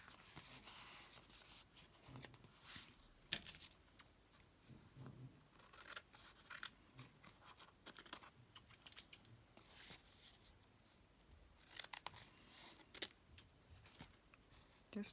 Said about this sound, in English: Just trimming off any little bits.